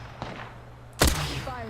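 A gunshot burst from the battle royale game Apex Legends cracks out loud and close, with a faint shot earlier and a steady game hum underneath.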